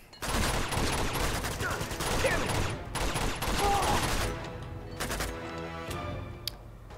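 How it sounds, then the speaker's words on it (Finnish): Gunfire from the video game Uncharted 2: rapid loud bursts of shots fired in dense volleys, easing toward the end with scattered clicks and a single sharp crack. "ne ampuu nimenomaan tuolta toiselta puolelta."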